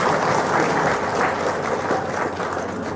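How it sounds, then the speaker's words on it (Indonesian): A seated audience at a religious lecture claps together, the applause loud and sustained without a break, with faint voices underneath. "Tepuk tangan dong, Robicon."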